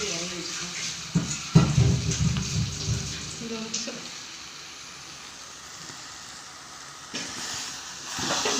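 Chicken marinated in yogurt, lemon, chili and coriander powders, ginger and garlic sizzles loudly in a pan with some stirring, then the frying quiets to a softer hiss as someone speaks over it.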